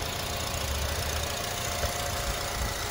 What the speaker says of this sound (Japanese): アイドリングも落ち着いてる感じです。